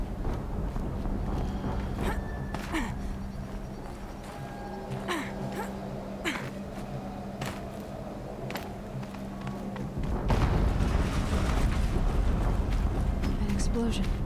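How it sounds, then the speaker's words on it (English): Muffled booms in the game Horizon Zero Dawn, low rumbling bursts among wind and outdoor ambience, turning louder and denser partway through, with a person talking over it. "An explosion."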